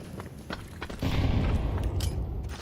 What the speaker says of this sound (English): Throwing a grenade. Fire in the hole.